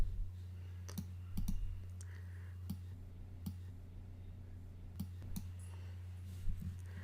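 Computer mouse clicks while working with a gradient tool in graphics software: scattered sharp, faint clicks, some in quick pairs, over a low steady hum.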